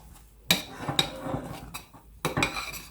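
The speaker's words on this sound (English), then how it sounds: "I'm going to stir everything." Custard filling for a layered Napoleon cake stirred in a pot on the stove as it thickens. A few distinct scrapes and clinks of a utensil against the pot come close up, with quiet gaps between them.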